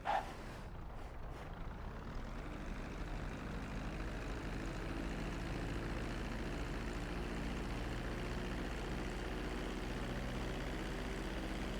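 A jet engine hums steadily in GTA 5 flight school as an airplane comes in over the runway to land, a broad continuous roar with a low drone underneath, holding even for the whole stretch after a brief bump at the start.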